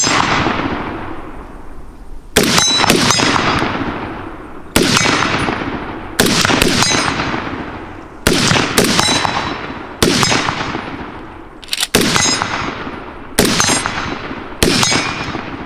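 Rifle shots from an M1 Garand and M1 Carbine at a live-fire range ring out one at a time, about eight sharp cracks spaced a second or two apart, each with a long echoing decay, loud and close with no talk.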